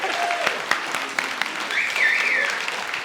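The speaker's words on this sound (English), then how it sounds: "I can clap now" Crowd applause at a wedding speech, a steady patter of many hands clapping with a few faint voices mixed in.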